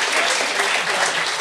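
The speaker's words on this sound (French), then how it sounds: "Oui, on va l'applaudir." An audience applauds a guest on a talk show, brief continuous clapping, close and fairly loud, with a faint voice underneath.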